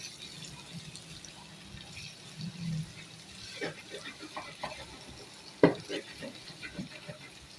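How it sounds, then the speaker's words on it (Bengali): Light stirring of frying vegetables in a cooking pan, soft scraping and faint sizzling with a few sharper clinks of the utensil, quiet and intermittent. "ভালো করে হালকা লাড়া দিয়ে দেবে"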